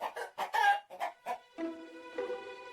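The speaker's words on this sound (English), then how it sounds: "the hen laid a golden egg" A hen laying a golden egg in an animated Jack and the Beanstalk story clucks in a quick run of sharp notes, then gives a longer, drawn-out call.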